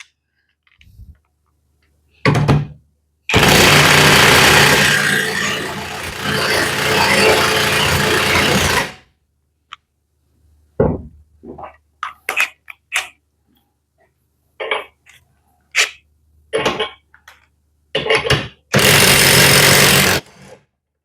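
A Parkside PASSP 20-Li C4 cordless impact wrench hammers in loud, close bursts, with a long run of about six seconds, a short one before it and another near the end, separated by quiet gaps with light clicks and handling noise.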